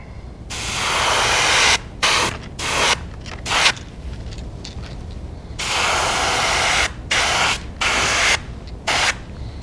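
An airbrush sprays a coat of paint onto a fishing lure, giving a steady close hiss in repeated bursts of a second or two, broken by short pauses as the trigger is released.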